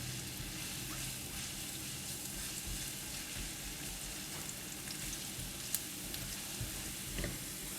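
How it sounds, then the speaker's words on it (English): Garlic fries in a hot pan with a steady, even sizzle that stays close and continuous and has no talk over it. "Add in the garlic and fry until fragrant and crispy."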